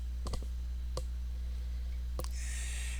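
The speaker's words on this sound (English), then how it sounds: "I'm going to click on the Import tab" A few sharp computer mouse clicks, a quick double click followed by two single clicks spaced apart, fairly faint against a low steady hum.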